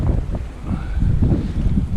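Strong gusty wind buffeting the microphone on the shore of Sessiagh Lake near Portnablagh, County Donegal, loud and continuous roar with waves lapping underneath.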